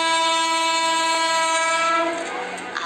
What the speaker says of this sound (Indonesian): Masa sih mereka tidak mendengar suara kereta yang semenggelegar itu?